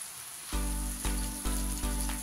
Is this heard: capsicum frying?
yes